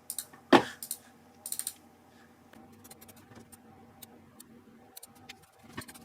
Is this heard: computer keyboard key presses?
yes